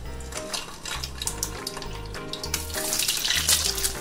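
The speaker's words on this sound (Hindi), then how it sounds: "अब इसमें हम एग को फ्राई करेंगे" Eggs sizzle and crackle steadily in hot mustard oil in a pan, with occasional clinks of a utensil against the pan and the frying noise growing louder toward the end.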